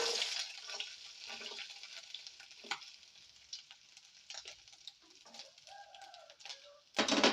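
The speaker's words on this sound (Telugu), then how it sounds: "రెండు టేబుల్ స్పూన్లు నెయ్యి అయితే వేసుకుంటున్నానండి దీనిలో ఫస్ట్ కొబ్బరి ముక్కలు వేసుకుందాం" Coconut pieces frying in about two tablespoons of ghee, a faint, close crackling sizzle with intermittent stirring scrapes, ending in a brief louder burst.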